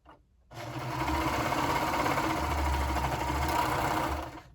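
A sewing machine stitches a seam, starting after a brief pause and then running as a steady, close, continuous mechanical whir with a rapid needle rhythm for about four seconds, with no talking.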